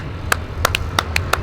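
Hand claps, five sharp separate smacks spaced unevenly over about a second and a half, moderately loud against a low background hum, with nobody talking.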